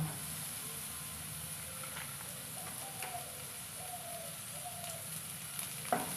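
Chopped onions go into hot oil in a pan for fried rice made from leftover rice, giving a steady soft sizzle with faint stirring clicks throughout, fairly quiet and with no talking.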